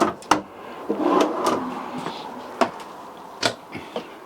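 Wooden plywood drawers on full-extension guides in a 2019 Pleasure-Way Plateau XLMB Class B+ diesel motorhome slide open and shut, giving several sharp knocks and thuds with short sliding rustles in between, close by and without talk.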